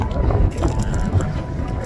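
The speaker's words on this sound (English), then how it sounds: "It's very windy here." Strong wind buffets the microphone in a constant low roar with gusty surges, close and loud throughout, among desert scrub and cacti in Guadalupe Mountains National Park, Texas.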